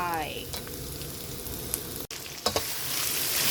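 Pork belly and bamboo shoots hit hot oil in a wok with garlic, chili and curry paste, giving a loud, steady sizzle with a few brief clinks of stirring near the end.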